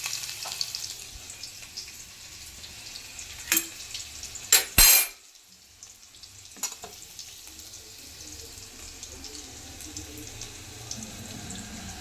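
Cluster beans frying in hot oil with mustard seeds and red garlic, a steady soft sizzle with a few sharp clatters of stirring near the middle, then a quieter continuous fry.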